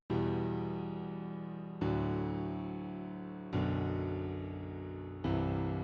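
Four slow piano chords in a low register, each struck and left to ring and decay before the next, played alone.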